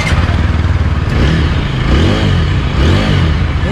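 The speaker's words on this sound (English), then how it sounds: "So let's listen the engine sound first." Single-cylinder engine of a 2021 TVS Apache RTR 160 4V motorcycle, about 160cc, idling and lightly revving up close, a steady throbbing rumble with slight rises in pitch, no talking.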